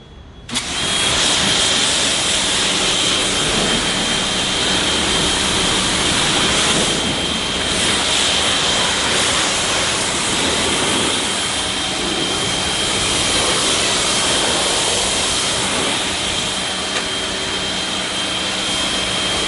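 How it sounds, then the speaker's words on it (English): A pressure washer sprays down a car in a steady, loud, continuous hiss and roar that starts abruptly and runs unbroken, with no talking. "So we went ahead, we did a quick power wash,"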